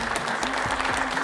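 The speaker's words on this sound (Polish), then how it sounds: "Wielkie brawa!" Audience applause at a Silesian schlager music awards event, a dense, steady wash of many hands clapping with no breaks.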